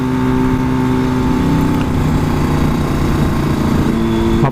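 Yamaha RD350LC motorcycle engine running steadily while riding, a loud continuous two-stroke drone with constant rasping harmonics and wind, close and unbroken throughout.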